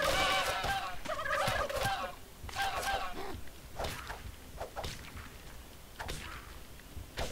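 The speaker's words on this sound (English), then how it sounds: "why are they turkeys chasing us?" Turkeys gobble in the Thanksgiving-themed Poultrygeist mode of the video game How to Survive 2. Several loud, rattling gobbles come close together at first, then thin out into scattered shorter calls and noises with no talk.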